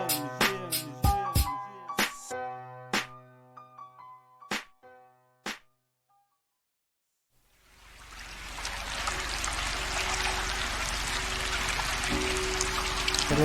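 Water pours and trickles steadily after a stretch of sparse plucked notes and a short silence, a continuous broadband wash that stays moderately loud to the end.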